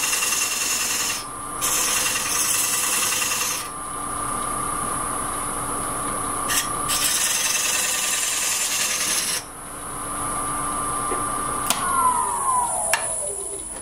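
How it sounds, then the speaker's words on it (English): A skew chisel cuts an oak bowl spinning on a wood lathe, making a steady close hiss and scraping rasp in several long passes with brief lulls, over the lathe's constant hum and a faint high whine. "I'm going to grab a skew. I'm just going to shape this to a slight taper."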